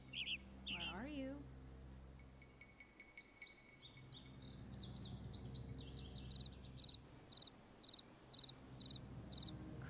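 Crickets chirp in a steady, faint, high trill in the Nancy Drew game Ghost Dogs of Moon Lake. A few brief bird calls sound at the start, and short, evenly spaced chirp pulses follow later, with no voices.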